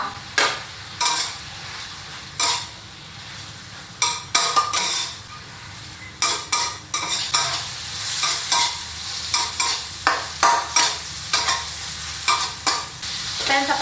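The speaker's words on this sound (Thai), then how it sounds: "แล้วก็มาผัดนะคะ คลุกเคล้าเลย" Cooked spaghetti is stir-fried with shrimp in a pan for a spicy drunken-noodle dish, with a steady sizzle punctuated by frequent scraping, clacking strokes of a spatula against the pan, close and fairly loud, with no talking.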